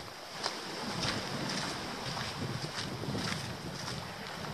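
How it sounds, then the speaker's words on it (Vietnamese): Strong wind blows along a coastal road beside the sea, a steady loud roar buffeting the microphone with faint rhythmic gusts and no talking. "Bữa nay trời gió lắm nha."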